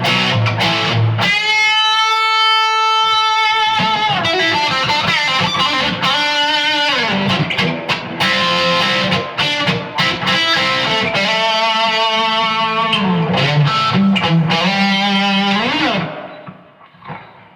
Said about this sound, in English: A little bit more distortion added.